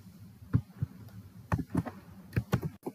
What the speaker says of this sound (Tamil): இப்போ அந்த இதுல வந்து நம்ம இதெல்லாமே டைப் பண்ண போறோம்.